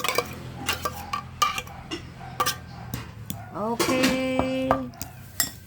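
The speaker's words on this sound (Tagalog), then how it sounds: "Yung tuna, ihalo na natin yan" Century Tuna being stirred in a bowl while making canape appetizers, with clinking utensil taps and scraping against dishware in irregular bursts, and a person talking briefly.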